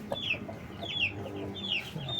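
A backyard free-range rooster clucks in three short, sharp calls spaced about evenly apart, close and clear over a quiet farmyard background.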